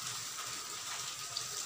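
About one and a half cups of water run into a pan for cheese Maggi noodles, a quiet continuous gushing hiss over a short stretch with no voices.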